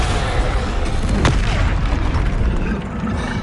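A Confringo fire spell exploding in the Hogwarts Legacy game, a loud deep booming blast with a sharp crack near the start, then a rumbling tail that fades slightly toward the end.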